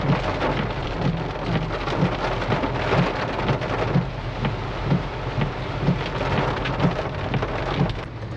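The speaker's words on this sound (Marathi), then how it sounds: "परंतु पाऊस आलेला आहे" Heavy monsoon rain pours steadily over Boisar near the BARC colony, a dense, continuous roar of drops on surfaces with low rumbles of thunder rolling underneath throughout.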